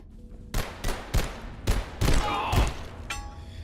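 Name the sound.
gunfire in the video game Abiotic Factor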